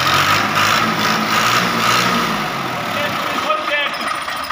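A 2014 Al Ghazi tractor engine runs steadily nearby, a loud mid-pitched diesel rumble with a slight rev, while people talk over it.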